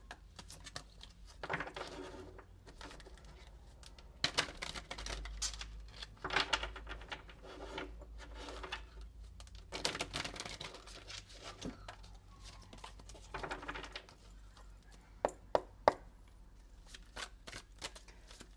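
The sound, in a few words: shuffling tarot cards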